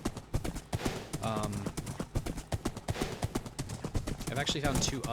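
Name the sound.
horse hooves clip-clopping in a video game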